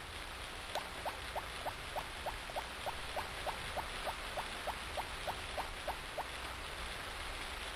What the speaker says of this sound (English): That rain sound is very peaceful and relaxing.